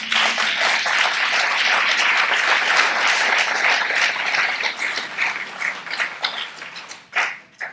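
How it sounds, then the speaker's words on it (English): An audience claps at a lecture on the African diaspora, steady dense applause that holds for several seconds before thinning into scattered claps and a final brief burst. "We can clap on that."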